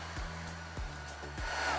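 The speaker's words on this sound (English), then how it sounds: "you can see where my blow dryer just dug into the painting" A blow dryer blasts resin across a Dutch pour painting, a steady close whirring airflow with brief dips in pitch as it moves over the surface.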